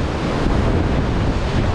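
Ocean waves crash against slippery, moss-covered rocks in a steady, loud broadband roar with gusts of wind buffeting the microphone throughout, no voices heard.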